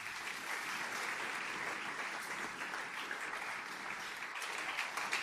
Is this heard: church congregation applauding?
yes